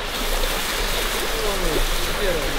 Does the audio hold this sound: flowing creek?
yes